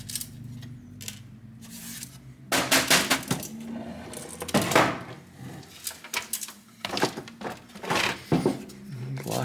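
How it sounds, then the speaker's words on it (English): Glass shards inside an internationally shipped computer case rattle and clink in irregular bursts as the case is tilted, sharp scraping jingles up close with brief pauses between. "Some more glass shards up in here too."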